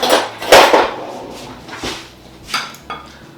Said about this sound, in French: je vais venir les écraser un petit peu à la fourchette